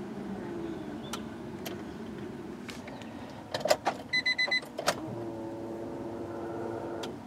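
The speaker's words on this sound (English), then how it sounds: "Little bit louder than the stock pump, but definitely not obnoxious or anything like that." An upgraded fuel pump in a turbo Integra GSR primes with a faint, low electric hum that runs in the background, broken midway by a few short clicks and beeps.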